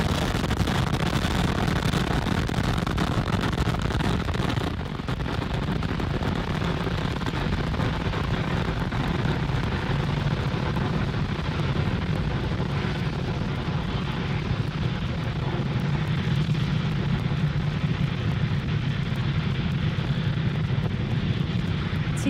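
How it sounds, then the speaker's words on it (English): SpaceX Falcon 9 rocket lifting off from Cape Canaveral Space Force Station on a Starlink mission, a loud continuous roar with deep rumble and crackle sustained throughout, dipping briefly then steady. "Falcon 9 has successfully lifted off from Cape Canaveral Space Force Station"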